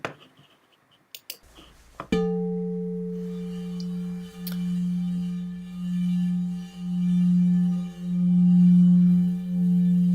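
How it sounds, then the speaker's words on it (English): A few light taps and clicks, then a struck metal bowl rings out with a sustained, pure tone that swells and pulses steadily as it is stroked. "So here's the singing bowl."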